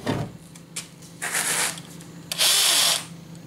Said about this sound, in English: Then take a drill,